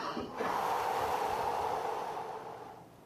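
A slow, deep breath during a breathing exercise with the chest expanding and ribcage sinking, heard as a loud, steady airy rush held close to the mic for a few seconds after a brief intake, then tapering off.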